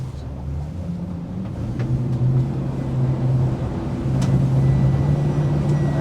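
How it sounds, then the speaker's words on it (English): Saxdor 320 GTC boat engines on the water, a steady low drone that climbs in pitch and grows louder as the revs rise, with faint talk beneath. "So we'll take her up through the revs and have a little look."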